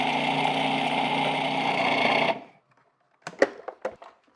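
An electric mixer whips butter with maple syrup in a steady loud whir for about two seconds, then stops, followed by a few soft clinks and scraping taps.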